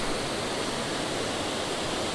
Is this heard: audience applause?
no